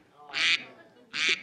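Two loud, nasal duck quacks from an alarm clock sound, each about a quarter second long and close up, separated by a short pause.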